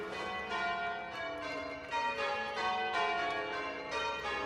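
Church bells ring in a rich, sustained peal, overlapping strokes arriving every half second or so and blending into a dense resonant wash of metallic tones, with no voices.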